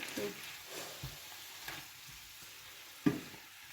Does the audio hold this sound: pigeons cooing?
no